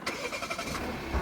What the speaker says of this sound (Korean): 앞서 보신 것처럼 아이들 때 소음이 조금 큰 것으로 나타났습니다.